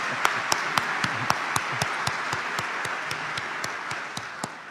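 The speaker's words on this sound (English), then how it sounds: "that deserves an extra applause" An audience at the 2012 State of the District address applauds, with a dense, even wash of many clapping hands and a few sharper claps standing out at a steady rhythm throughout.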